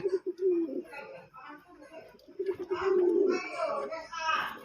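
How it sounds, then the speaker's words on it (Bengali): Soft repeated cooing of a pigeon, low throaty calls in a loose rhythm, close and fairly quiet, with some faint background chatter. "দেখেন কিভাবে ডাকাডাকি করতেছে"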